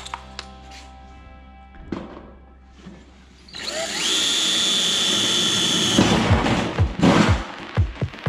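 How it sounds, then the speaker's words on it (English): A power drill bores through a tin ceiling panel. After a few quiet clicks and handling noises, the drill spins up into a loud, steady high whine that holds for several seconds, then turns rough and scraping as it bites through the metal. "I'm gonna drill a hole through the center or on the edge"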